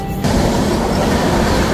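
A train rolls into Balasore railway station with a loud, steady, broadband rumble and rattle that continues without pause, recorded up close.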